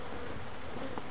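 Swarm of honey bees buzzing closely around a beekeeper sealed in a zipped bee suit, a dense, steady hum held at an even level throughout with no talk.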